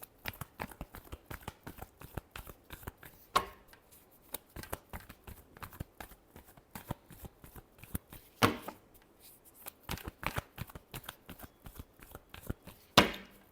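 Tarot cards are shuffled over and over by hand, giving a dense run of crisp riffling clicks and flutters with a few louder slaps between the bursts, close up and with no one talking.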